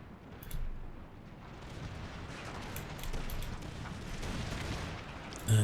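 Artillery fire booms in a battle in the video game Empire: Total War, a continuous rumbling barrage of distant cannon shots rolling over one another, with a louder thud at the very end.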